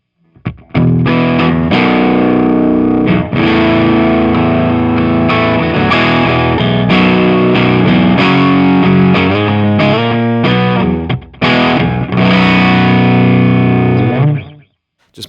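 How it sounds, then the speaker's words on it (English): Aggressive distorted electric guitar through a Marshall-style amp channel, loud and sustained with heavy chords and riffs, a few short breaks, and no talking. "this one is this Marshall-ish sound, obviously going to be more aggressive."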